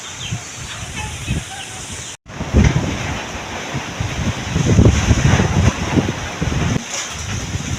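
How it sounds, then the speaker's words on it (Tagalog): Strong wind buffets the microphone in steady, rumbling gusts with a broad hiss, briefly cutting out once, then roaring louder for the rest. "Grabe ka hangin. Suking hangin guys."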